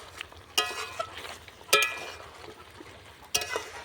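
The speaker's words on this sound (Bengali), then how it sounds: "তারপরে খুন্তি দিয়ে আমি নাড়িয়ে নেব" A spatula stirs spiced achari chicken in a pan, making three sharp scraping strokes spaced about a second apart over a faint background sizzle, with no voices.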